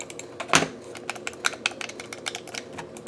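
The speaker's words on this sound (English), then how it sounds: "Oh, they're like clicky style buttons, like if you're clicking on the mouse." Rapid, crisp clicks of a NYXI Warrior GameCube-style controller's clicky buttons pressed close up, irregular and fast, with one louder click near the start.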